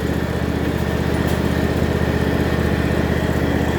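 A tractor engine runs loud and close, a steady rapid chugging drone with an even pulse and no pauses, no voices over it.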